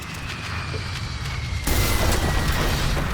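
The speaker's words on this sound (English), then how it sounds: "Our plane's crashing." Plane crashing in The Forest survival game: a low roaring rumble that suddenly swells into a louder, harsher roar of impact and turbulence, continuous and close, no talking.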